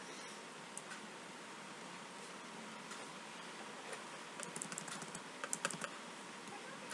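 Computer keys tapped at a desk while formatting a Microsoft Excel sheet, quiet scattered clicks that grow busier toward the end, with a couple of louder presses of the F4 key and no talk.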